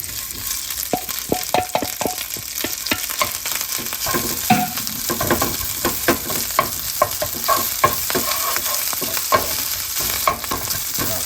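Rice being stir-fried in a heated, oiled frying pan for pork belly char siu fried rice, a steady loud sizzle broken by frequent scraping and tossing clicks from stirring.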